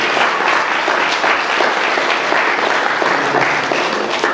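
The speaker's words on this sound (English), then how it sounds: "another round of applause" Loud sustained congregation applause at a Black History church gathering, a thick continuous wash of clapping from many people that holds steady throughout.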